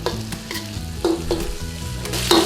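Beef for chow mein stir-fried in oil in a hot pan, loud close sizzling with a few sharp metallic scrapes and stirring knocks over a couple of seconds, no voices.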